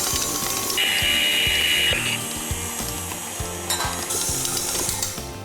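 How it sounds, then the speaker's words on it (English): A stand mixer works dough on low speed, giving a steady mechanical whir with regular knocking clicks and a rattling, ratchet-like rhythm throughout, close and fairly loud. "Turn the mixer on a low speed."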